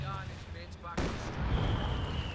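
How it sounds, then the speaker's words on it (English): Heavy mortar shells strike the ground in a Company of Heroes 2 battle: a sudden broad crash about a second in, followed by a rumbling, crackling roll of blasts and debris, with a faint voice in the background. "Heavy mortar strikes landing."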